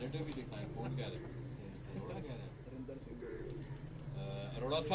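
Tausi pigeons cooing at a Lahore pigeon keeper's house, a steady low rolling coo beneath people talking, with a chirp near the end.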